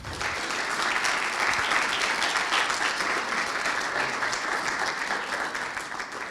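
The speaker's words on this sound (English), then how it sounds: "Can we please have a round of applause for our judges?" An audience at a university three-minute thesis competition claps for the judges, a dense, sustained round of applause that swells quickly and holds steady for several seconds in the hall.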